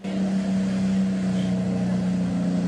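A border patrol motorboat on a river gives a steady engine drone with a strong low hum, close and constant throughout.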